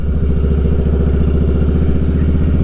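A cold Harley-Davidson 103 motorcycle engine runs close and loud with a steady, rough, lumpy rumble and rapid pulsing beat, unchanging throughout.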